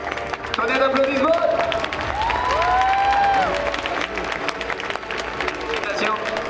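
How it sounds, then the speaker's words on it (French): Audience applause and cheering at a cosplay contest prize ceremony at the Troyes Japan Pop Show, lively clapping from a crowd with shouts and whistles, while a voice speaks over it. "Tonnerre d'applaudissements."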